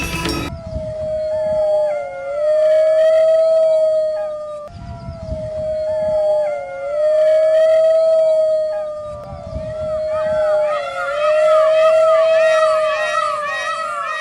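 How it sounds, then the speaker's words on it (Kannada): A jackal howls in three long, rising and wavering calls, each separated by brief gaps and fairly loud. Background babble and voices rise between the howls, and later calls come layered with extra overlapping wails. "ಹೀಗೆ ನರಿ ಓಳಿಟ್ಟರೆ ಅದು ಆಪತ್ತಿನ ಮುನ್ಸೂಚನೆ"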